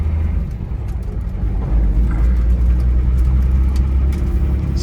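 A 1981 Datsun MQ Patrol with the SD33 diesel and four-speed rolls along in first gear, a steady low engine drone and drivetrain rumble close by that swells slightly after a couple of seconds and holds.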